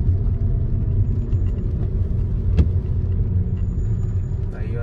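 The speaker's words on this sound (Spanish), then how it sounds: "Ahí donde están cruzando todos los carros, ¿ve?" Steady roar of cars crossing an intersection by the new La Cuchilla overpass in Zona 6, a continuous close rumble of passing traffic with a brief sharp knock partway through, no clear talk.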